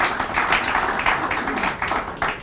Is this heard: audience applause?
yes